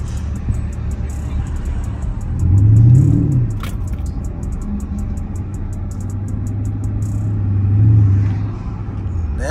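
A Dodge SRT Charger drives along a road with a deep, steady engine rumble, rising in two distinct revving swells, loud and close from inside the car.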